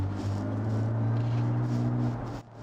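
A synthetic engine drone from a Genesis GV70 electric SUV's active sound design hums steadily with a low, sustained tone and faint higher harmonics, dropping away briefly near the end.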